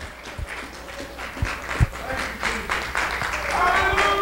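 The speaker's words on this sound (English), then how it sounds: "give the Lord a big hand clap of praise" Congregation clapping in praise at a church healing altar service, a steady patter of hands with some livelier bursts, mixed with voices.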